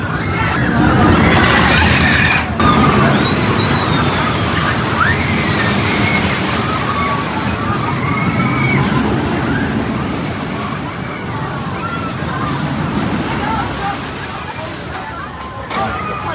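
Vekoma Boomerang roller coaster built in 1999, ridden at an amusement park in Texas: a steady loud rush of wind and rattling track noise throughout, with riders' voices and screams mixed in the roar.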